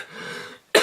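A single short, sharp cough from someone with a cold, right at the end, after a faint breathy pause.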